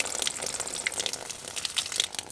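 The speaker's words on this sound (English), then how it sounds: "we turn on the pump" Battery-powered water pump on a homestead delivering about 5.5 gallons per minute for watering cows, heard as a steady rushing, splashing gush of water, close and continuous.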